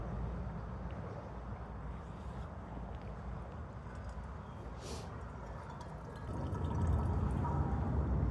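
Cloudy water trickling slowly into a container outdoors in winter Kazakhstan, a steady close liquid fill that grows louder and fuller toward the end.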